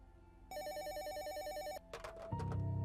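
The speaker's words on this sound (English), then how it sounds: "my phone rang again" A telephone bell rings in one steady, quiet trill lasting over a second, followed by a few soft clicks and a low rumble.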